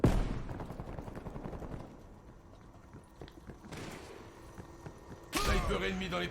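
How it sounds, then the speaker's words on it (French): Gunfire in Call of Duty Black Ops Cold War: a dense burst of rapid shots at the start, then scattered distant pops and faint game sounds, with a louder blast near the end; voices occur amid the noise. "c'est qui me tire dessus?"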